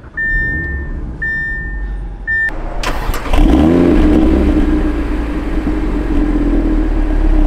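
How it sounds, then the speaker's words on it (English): A 2021 Audi TT RS with its 2.5-liter engine warm-starts after a few seconds of steady chime tones, catching with a sharp crank and settling into a loud, steady idle rumble close by. "Here we go with the warm start on the 2021 Audi TTRS."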